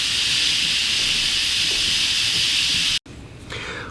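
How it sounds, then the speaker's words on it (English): An Instant Pot pressure cooker vents steam after cooking rice, giving a loud, steady, close hiss that cuts off abruptly, followed by quieter kitchen sounds. "Now when the rice is done and it signals like that, go ahead and vent it right away."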